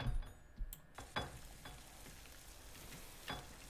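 Tuna slices frying in a video game cooking scene, a light crackling sizzle with a few sharp clicks and soft stirring taps near the start, fairly quiet and steady throughout.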